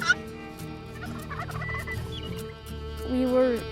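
Wild turkey gobblers gobble in a New Mexico field, giving a loud rattling call near the start. Further warbling gobbles follow and swell again toward the end, carried over a steady background hum.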